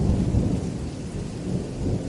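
Steady rain falling during a storm, with deep rolling thunder rumbling underneath, continuous and even throughout without any voices.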